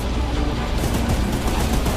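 Loud, dense video-game gunfire rattles on without a break, a continuous barrage of rapid shots close up.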